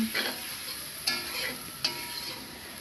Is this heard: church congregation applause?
no